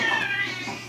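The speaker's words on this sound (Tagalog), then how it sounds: "Sabi ang ingay ng mga pusa." Cats meowing, a short, loud, close drawn-out meow with a second fainter cry at the end, with no other sound.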